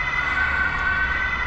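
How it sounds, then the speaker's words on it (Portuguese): An ambulance siren wails steadily on a street in Poznań, Poland, a continuous, fairly close tone with traffic rumble beneath it and no talk. "Tá passando aqui uma ambulância ou um carro de bombeiros, ó, deixa eu ver."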